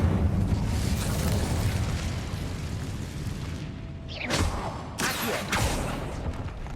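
The Incendio fire spell is cast in Hogwarts Legacy, giving a roaring, whooshing fire blast that rumbles steadily, followed by two sharp crackling bursts near the end.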